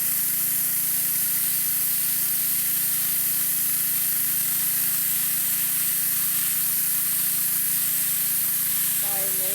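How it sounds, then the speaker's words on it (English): A pressure washer blasting gel paint stripper off a boat hull gives a loud, continuous hiss and spray rushing steadily close by with no break, a faint tonal whine appearing near the end. "I used a gel paint stripper and then pressure washed."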